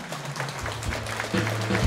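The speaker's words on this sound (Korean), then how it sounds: "큰 박수로 여러분들 큰 박수로 환영해 주십시오." A crowd applauds a plaque presentation at the 60th-anniversary founding ceremony of the Korean Roh clan's central association; steady, dense clapping fills the hall at an even level, with a low hum underneath.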